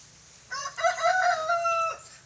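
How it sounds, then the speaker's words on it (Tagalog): A native chicken in a hut lets out one drawn-out, wavering call lasting about a second and a half, close by over a faint background hum. "So yun yung native chicken ko na nililimlim."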